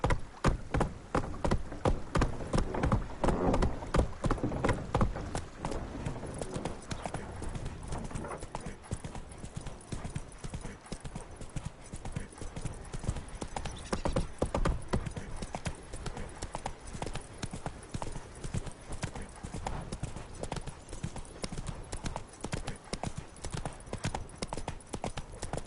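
Roach, a horse in a video game, gallops steadily with rapid, continuous hoofbeats close up, a faint whinny now and then, and an occasional voice over the running.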